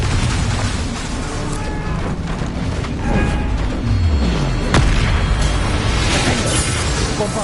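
A loud, close Confringo blasting-spell explosion in Hogwarts Legacy booms over a rumbling, dense game soundscape, with deep impacts and crackling bursts rolling across the whole stretch.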